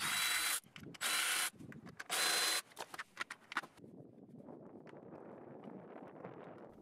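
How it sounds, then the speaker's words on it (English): Power driver with a hex H5 bit backing out screws from the final drive cover of a Honda Forza scooter, three loud whirring bursts followed by clicky handling of loose parts and a low background rumble. "We'll do that by removing the three screws using a hex H5 bit."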